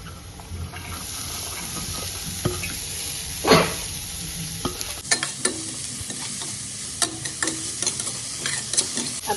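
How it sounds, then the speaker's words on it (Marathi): Chopped cabbage tipped into a pan of hot oil and turmeric over a low gas flame and stirred for a cabbage dry vegetable dish. A loud scraping burst comes first, then steady sizzling with repeated stirring scrapes and clinks. "आता मी इथे बारीक चॉप केलेली पत्तागोबी टाकून घेणार आहे।"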